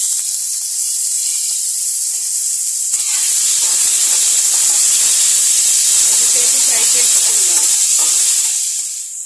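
Tomatoes with green chilies and salt fry in a pan for an uggani dish, a loud steady sizzling hiss close by, swelling as they hit the hot oil.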